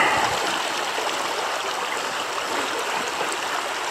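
Shallow river in wild nature flows with a steady, broadband rushing and gurgling of water, close and continuous, while someone wades through it.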